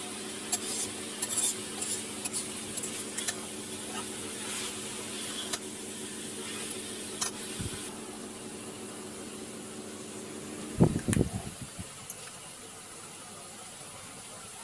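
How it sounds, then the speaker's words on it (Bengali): Bottle gourd curry with cumin is stirred in a pan, with soft intermittent scrapes and light sizzling over a steady background hum, and a sharper clatter of utensils near the end, no voices. "এখন জিরে দিয়ে একটু নাড়াচাড়া করে নেব তরকারিটা"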